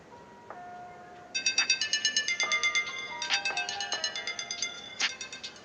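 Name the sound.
phone ringing from Mi Band 4 find phone feature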